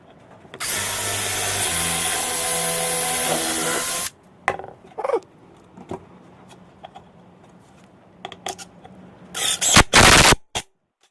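A power drill drives screws into scrap timber while building a bee hive: a loud, sustained whirring run of about three seconds with pitch shifts, then short bursts, clunks and a few sharp loud hits near the end.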